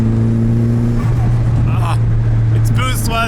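A Z06 Corvette drift car's engine holds a loud droning tone, then steps up in pitch as it accelerates, close up from inside the car, with brief speech near the end.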